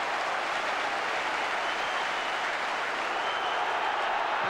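Football crowd at a 1990–91 Chelsea match applauding steadily, a dense broadband wash of clapping and crowd noise that holds evenly throughout without pause.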